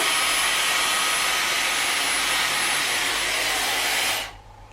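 A Dyson Airwrap hair styler blows air steadily while drying hair, a loud, even airflow roar that holds for about four seconds and then cuts off abruptly, leaving quiet.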